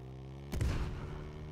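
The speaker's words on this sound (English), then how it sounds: "I just all of a sudden heard an explosion" A sudden explosion bursts in a Halo custom map, a single deep boom that rises abruptly from a quiet humming background and then rumbles and fades over about a second.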